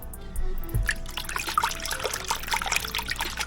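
A rabbit hide is worked by hand in a basin of cold soapy water, giving close wet sloshing, trickling and dripping sounds in irregular bursts, with no talking.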